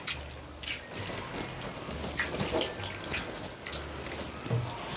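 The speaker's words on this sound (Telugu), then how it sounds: "కొంచెం నీళ్ళు ఇలా చల్లుకోవచ్చు" Water splashes and patters softly in short bursts as it is sprinkled onto a semi-silk saree, with light wet squishing sounds close by.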